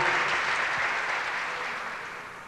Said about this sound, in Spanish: Fuerte el aplauso, si se vale